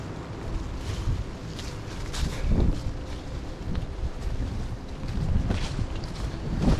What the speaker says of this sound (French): Il pleut énormément maintenant ici à Mazères. Le vent souffle aussi.